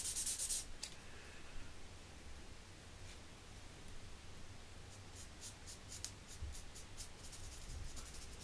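Brown felt-tip marker colouring a handmade birthday card, a soft, faint, steady scratching hiss that continues close by, with a few brief scratchy strokes near the end and no talking.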